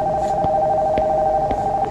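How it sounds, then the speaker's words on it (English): A telephone rings upstairs in the horror game Nocturnal Visit, a loud, steady electronic ring tone that carries through the whole moment with faint periodic clicks. "The phone from upstairs is ringing."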